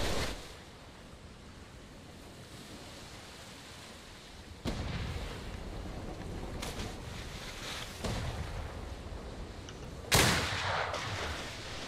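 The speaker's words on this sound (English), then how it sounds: "I'm taking carbine shots" Carbine gunfire in a naval combat video game, sharp bursts of shots punctuating a steady rumbling background, with a loud close volley near the end.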